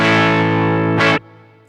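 Electric guitar through a Kali Q Graphic EQ on a Line 6 HX Effects unit, stacking gain: a loud, distorted sustained chord rings out, is briefly re-struck, then is cut short to a faint decaying tail.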